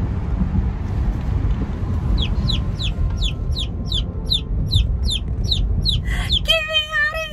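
A baby chick confined in a box chirps in a rapid, steady series of sharp, high peeps close by over a low rumbling background, ending in a few longer, wavering cries.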